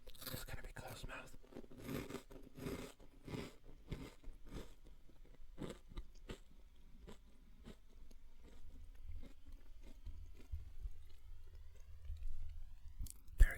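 Close, quiet crunching from chewing hard, crisp croutons with the mouth closed, bursts of bites coming irregularly, then softer mouth sounds near the end.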